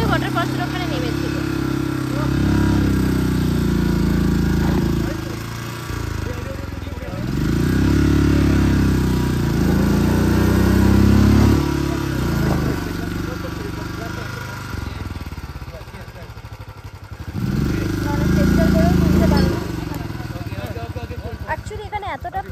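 A motorcycle engine revs in repeated loud surges while the bike is stuck and skidding on a steep rocky hiking trail near Rainbow Falls, with voices talking over it.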